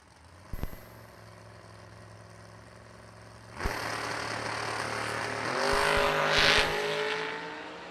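Drag racing at a track, a Roadster with a big dragster wing facing a Vega: a distant sharp bang, then engines roar and build in a loud, rising rush that swells near the end.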